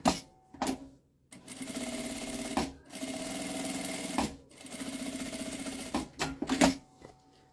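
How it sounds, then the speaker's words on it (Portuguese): A sewing machine runs topstitching along fabric for a zipper pouch, in several bursts of rapid, even mechanical stitching separated by brief pauses, close and clear with no talking. "eu vou rebater uma costurinha de meio pé de máquina aqui, ó, pra fazer um detalhe e manter esse tecidinho aqui bem alinhadinho"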